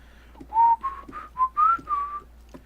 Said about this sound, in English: Whistling is annoying.